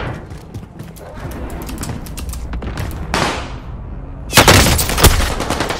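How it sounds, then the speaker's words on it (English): Rapid gunfire from a Warzone match, with bursts of automatic shots crackling over a rumbling background and a louder volley of close shots late on. "Under heavy fire here!"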